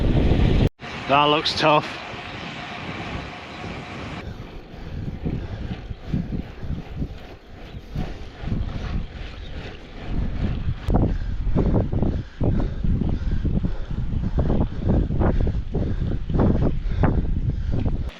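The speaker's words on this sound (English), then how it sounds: "Christ, that wind!" Strong wind on open Yorkshire moors buffets the microphone in loud, continuous low rumbling gusts, with a person speaking briefly over it near the start.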